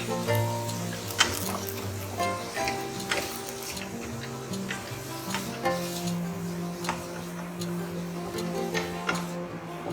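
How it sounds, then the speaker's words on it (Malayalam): Fenugreek leaves and sweet corn sauté in a pan for a corn and methi pulao, giving a steady close sizzle with repeated scraping stir strokes and small clinks throughout, with no talking. "ഉലുവയില ഒന്ന് വഴറ്റി കഴിയുമ്പോൾ സ്വീറ്റ് കോൺ ആഡ് ചെയ്യാം."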